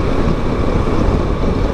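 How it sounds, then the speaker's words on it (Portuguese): Steady, loud wind rush inside a motorcycle helmet while riding a Kawasaki Versys 650 ABS Tourer 2018 at speed, a continuous broadband roar filling the whole stretch with no speech. "Entra muito vento, é barulhento"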